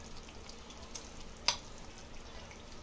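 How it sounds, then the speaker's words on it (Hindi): Paneer pieces going into sizzling egg gravy in a pan: a quiet, steady frying hiss with a single brief clink near the middle, heard close and without speech. "अभी इसमें पनीर डालेंगे।"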